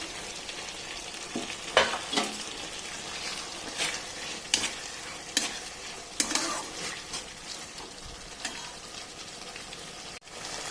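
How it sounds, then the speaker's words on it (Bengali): Chopped tomato goes into a frying pan for a bhetki fish dish and is stirred through. A soft sizzle runs under irregular scraping and clinking of a spoon against the pan, followed by a brief knock near the end. "দিয়ে দিচ্ছি কেটে রাখা টমেটো।"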